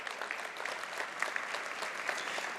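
Audience applause at a university academic and athletics award banquet, steady dense clapping filling the room for the whole stretch at moderate distance, no voices over it.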